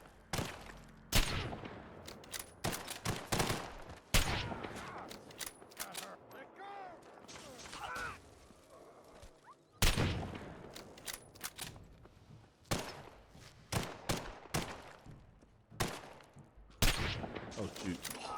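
Gunfire from a heavily modded Fallout 4 game bursts out in sharp, loud volleys with mechanical clicks and clatter between the shots. Frequent short exclamations from a player are mixed in among the shots.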